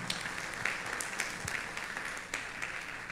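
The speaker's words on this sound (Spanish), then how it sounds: "Dale un aplauso al Señor por la palabra" A church congregation at a Sunday service claps together, a brief, lively burst of applause with scattered sharper claps standing out from the crowd.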